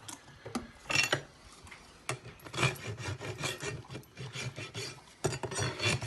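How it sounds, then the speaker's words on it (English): A farrier's rasp files a horse's hoof to trim off the nail ends while fitting an EasyShoe Versa Grip shoe. Close, loud, gritty scraping strokes come in repeated bursts with short pauses between them. "trim our nails off"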